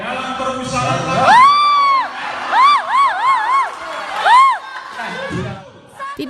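A crowd of participants at a Pancasila recitation in Lumajang breaks into loud protesting shouts, several voices overlapping in rising, drawn-out yells that swell and fade in bursts, close and boisterous.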